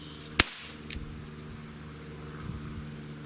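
A Walther CP88 air pistol fires a single sharp, loud shot up close, followed by a faint mechanical click and a quiet hum.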